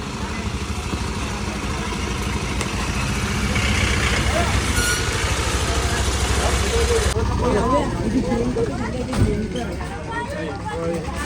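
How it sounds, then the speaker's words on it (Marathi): A large vehicle's engine rumbles steadily as it pulls in and idles at a village roadside stop, with a low drone throughout and a babble of nearby voices and talk around it. "मोठी गाडी आहे"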